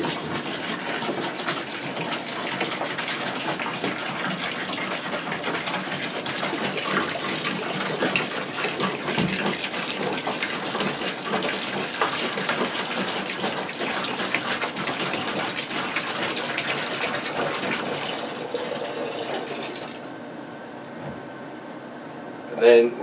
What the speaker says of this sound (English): So I just add your gallon of vinegar.